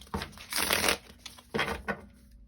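Tarot cards being shuffled by hand, two bursts of dense riffling a second apart, close and crisp, with brief quieter taps between and no speech.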